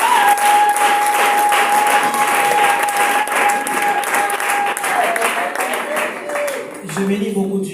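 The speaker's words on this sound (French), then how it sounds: "Est-ce qu'on peut acclamer le Seigneur?" Church congregation at a Christian youth gathering bursting into sustained, loud applause and cheering that fills the room, with a voice rising over the clapping near the end.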